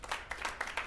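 Brief, quiet burst of crowd applause from the Doki Doki Literature Club video game, a short patter of clapping with no voices.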